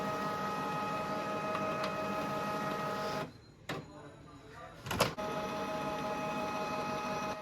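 A Canon PIXMA G3012 ink tank printer initializes with a steady mechanical whir and hum that dips briefly into near quiet, gives a sharp click, then resumes its even droning, heard close up.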